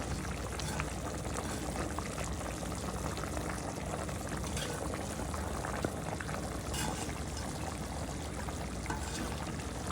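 Water-based curry broth for hilsa fish with mixed vegetables comes to a boil in a pot, making a dense, continuous bubbling roar that stays loud and even throughout, with no talking.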